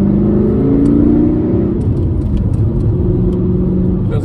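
Steady, loud engine drone heard from inside a manual car while driving, its pitch falling partway through as if shifting gears, then settling into a constant low rumble with no talking.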